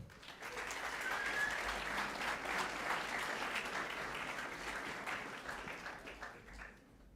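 An audience at an entrepreneurship kickoff event claps in a steady, dense round of applause that fades slightly at the end, heard at a moderate distance.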